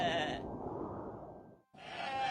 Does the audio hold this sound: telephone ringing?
no